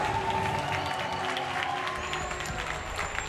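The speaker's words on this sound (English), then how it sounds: "Mixed opinions in the crowd. They are booing. Literally booing." An esports crowd at the Gears of War 4 grand finals in Mexico City, Optic Gaming vs Team EnvyUs, sends up a loud, sustained roar of mixed reaction, booing blended with clapping and cheers, filling the arena without pause.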